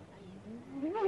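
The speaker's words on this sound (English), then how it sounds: "That unearthly sound is produced by this instrument, a bull roarer, a piece of wood inscribed with the sacred designs" A bull roarer, a wooden ritual instrument inscribed with sacred designs, gives a brief whirring roar that rises and swells in pitch, moderately distant and eerie, with no speech over it.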